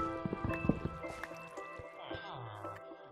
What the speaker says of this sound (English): There is more water leaking in a place where it shouldn't be leaking.